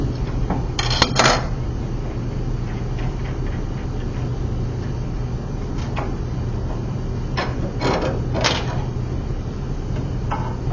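A few sharp metallic clinks of wrenches against a table saw arbor as the blade is loosened and removed, heard over a steady low shop hum, with brief clanks early and again near the end.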